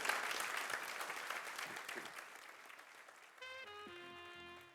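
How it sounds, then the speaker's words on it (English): An audience applauds a guest speaker, the CEO of Heineken, with steady dense clapping that slowly fades, and a sustained tonal musical sting enters near the end over the thinning applause. "So please, let's have a round of applause for our guest of today."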